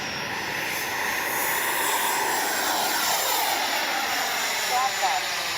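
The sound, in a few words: RC jet plane taking off and climbing vertically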